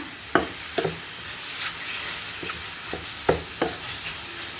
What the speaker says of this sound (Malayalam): എന്നിട്ട് ജസ്റ്റ് ഒന്ന് ഫ്രൈ ചെയ്തെടുക്കുക, ഷാലോ ഫ്രൈ ചെയ്തെടുക്കുക.